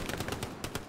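Automatic gunfire in the WWII shooter Hell Let Loose, rapid bursts of shots crackling in quick succession at moderate distance, filling the second without any speech.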